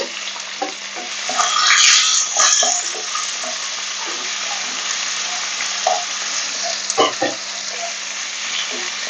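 Chopped onion sizzling and frying in hot oil in a pan with cashews and cloves, a steady loud crackle with occasional stirring scrapes, no voices.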